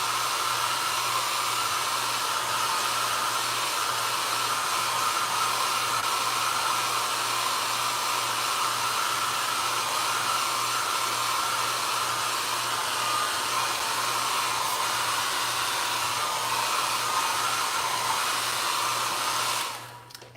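A hair dryer blows continuously over mixed media artwork, a steady close whooshing hum with a constant motor tone, cutting off just at the end.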